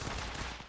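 Incoming gunfire during a round of a battle royale video game, a dense continuous rattle of shots filling the whole moment, loud and close, with no voices over it.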